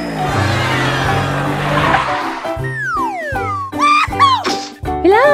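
Car tires squeal in a series of sharp, pitch-bending skids after a rough engine rush, several loud screeches in quick succession with short gaps between them.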